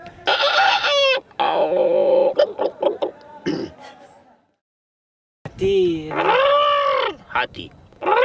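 A person loudly imitates a rooster crowing, with drawn-out cock-a-doodle-doo calls separated by a brief silence.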